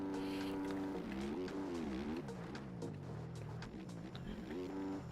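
Motocross bike engine in the MX Bikes racing game, revving hard with rising and falling pitch as the rider holds it flat out over jumps and a wheelie, loud and continuous throughout.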